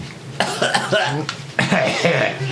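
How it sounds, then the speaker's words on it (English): A few short, deliberate coughs and throat-clearing sounds come in separate bursts, near and clear, with some voice between them. "Is that with a few fake coughs too?"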